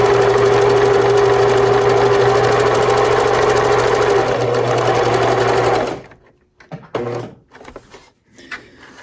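A FAF Select 4.2 sewing machine runs a stretch stitch on fabric with a loud, steady mechanical whir for about six seconds, then stops, leaving a few soft handling noises.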